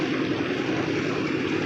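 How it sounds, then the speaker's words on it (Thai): A two-wheel walking tractor engine runs in a rice field, a steady, close, buzzing drone with a constant throb and no pauses or voices. "บ่มีเด้อเสียงกันแนวอื่นน่ะมีแต่เสียงรถอีแตกอย่างเดียว"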